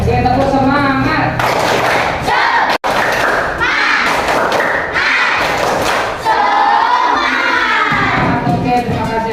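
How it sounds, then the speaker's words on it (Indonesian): Schoolchildren in an Indonesian classroom perform a rhythmic clapping chant, loud and close, with bursts of clapping and shouted voices in a quick, patterned rhythm. "Oke, tepuk semangat."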